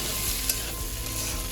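Pointed gourd and onion frying in a pan with turmeric and salt, a constant close hiss of oil with a brief stir at one point and no talking.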